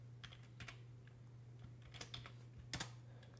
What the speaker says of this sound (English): Let's try typing an ED command.